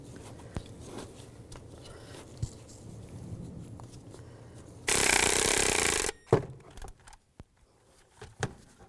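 Bolts are tightened on the radiator cooling fan clutch of a 2005-2015 Nissan Xterra. Faint metallic clinks and taps are followed by a loud, harsh tool burst of about a second, then scattered clicks.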